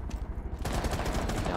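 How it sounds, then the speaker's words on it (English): Bursts of enemy gunfire in a competitive ranked video game match crackle densely and loudly from the second half onward, following a quieter, thinner stretch, with no talk over it. "He's shooting at me."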